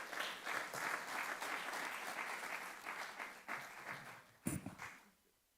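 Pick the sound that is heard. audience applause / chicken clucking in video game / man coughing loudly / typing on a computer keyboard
audience applause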